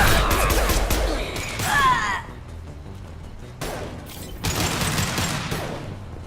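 Gunfire from a Mass Effect battle, with a dense burst of shots and crashing impacts in the opening two seconds, then quieter intermittent bursts and clatter later, fairly loud throughout.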